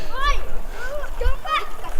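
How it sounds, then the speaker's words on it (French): Children splash while bathing in a river at the village of Tamy, with bursts of water throughout and their high voices calling and chattering close by. "il y a des gamins qui se baignent"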